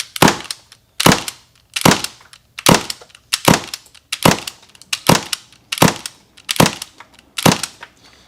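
Tokyo Marui MK23 airsoft pistol fired with a suppressor attached: nine sharp, evenly spaced shots about one per second, each a crisp snap with a short tail, close and alone.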